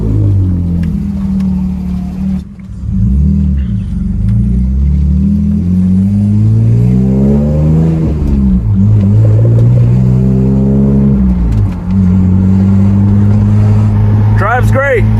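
A right-hand-drive BMW E46 drives and accelerates, its engine droning loudly and steadily with rising and falling revs throughout, heard from inside the car.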